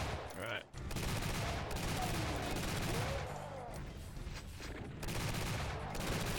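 Chain gun enemies fire nonstop in the first-person shooter Guncaster, a loud, dense wash of rapid gunfire and explosions that barely lets up, briefly dipping once near the start.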